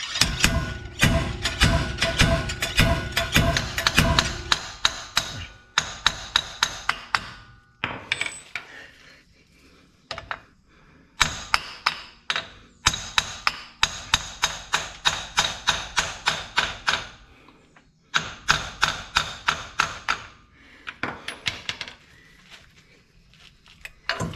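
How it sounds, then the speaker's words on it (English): Repeated sharp metallic clanks in quick bursts, a slide hammer striking its stop over and over while pulling a front wheel bearing hub assembly off a 2017 Ram 3500 Dually, with short pauses between runs, close and loud. "just trying to pull this bearing assembly off the slide hammer"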